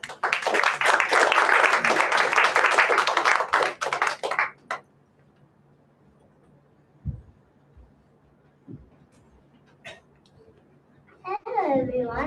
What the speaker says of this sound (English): Let's welcome her with a loud clap.